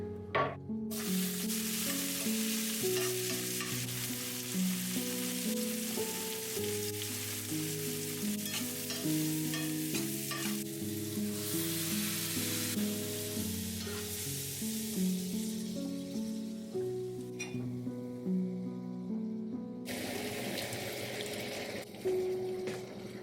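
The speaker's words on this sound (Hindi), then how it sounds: "क्विक सा तड़का लगाएंगे। तेल में मैंने हींग ऐड किया है, प्याज और टमाटर" Steady sizzling of asafoetida, onion and tomato frying in hot oil, with stirring and clinking sounds throughout, close and fairly loud.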